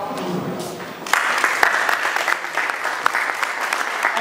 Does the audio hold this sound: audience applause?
yes